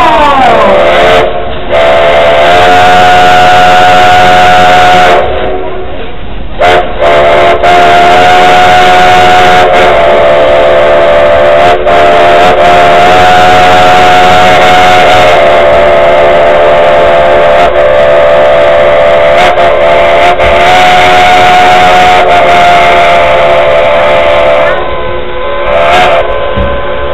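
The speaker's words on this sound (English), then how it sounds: "he'll play you a song on that whistle" Steam whistle of the Dollywood Express locomotive No. 192 blowing long, loud sustained blasts with brief gaps, played as a tune for riders, up close and without speech.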